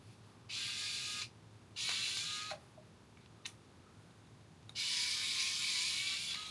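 A Fanttik NEX E1 Max electric screwdriver loosening screws, with three whirring bursts of its small motor separated by pauses and a brief click, close and fairly quiet, no talk.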